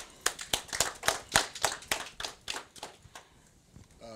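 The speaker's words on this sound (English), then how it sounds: "Clap it up for him" Sparse clapping in a school gathering for the principal, a handful of distinct sharp claps in an uneven rhythm, fairly close and gradually thinning out to near quiet.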